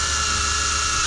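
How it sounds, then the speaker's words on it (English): Steady high whine of a power drill pilot-drilling screw holes while building equipment for a food trailer, continuous and close with no pauses or voices. "pilot drill these holes here"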